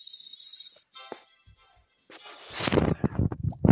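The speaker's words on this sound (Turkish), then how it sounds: "Topla hücum." Clash of Clans battle with cannons firing: a few scattered sharp thuds, then a louder cluster of booming impacts and crackling blasts toward the end, following a faint high tonal ringing at the start.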